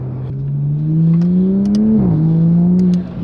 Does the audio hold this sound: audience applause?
no